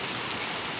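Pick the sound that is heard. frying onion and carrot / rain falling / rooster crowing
rain falling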